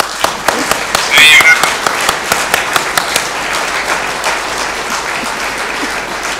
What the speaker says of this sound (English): a big applause to Jeff Kiehl